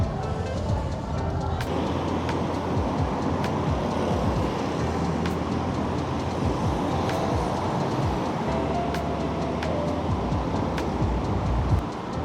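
Ride on a train in Athens, a continuous low rumble of wheels on track that stays steady and loud throughout, with faint periodic clicks of rail joints and a brief hiss near the end.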